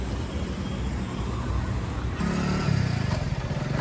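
Steady engine drone from a motorcycle on the move, with wind rumble and a slight rise in engine pitch partway through.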